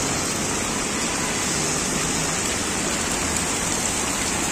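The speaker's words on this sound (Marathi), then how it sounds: "सकाळपासून किती पाऊस पडतोय" Heavy rain pours down in Virar, a dense, unbroken hiss of water striking roads and roofs, loud and steady throughout with no voices.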